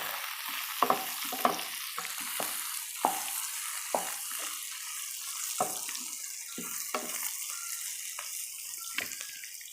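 Coconut and white sesame frying in a pan, stirred with a spoon that scrapes and clatters at irregular intervals over a soft, continuous sizzle.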